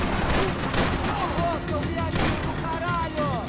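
Shotgun blasts in Max Payne 3: heavy, booming shots hit close and loud among chaotic gunfight noise, with voices calling out over the firing.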